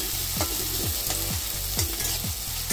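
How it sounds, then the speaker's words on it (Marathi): Sizzling fry of a medium onion being sautéed until brown in a pan, with regular stirring strokes roughly every half second over a constant close frying hiss. "कांदा ब्राऊन होईपर्यंत छान परतून घ्यायचं।"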